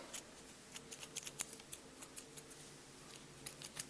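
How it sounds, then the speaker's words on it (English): Scissors snip repeatedly at yarn during a crochet project, a quick irregular run of sharp, faint, close clicks and cuts with no voices. "My scissors are not working."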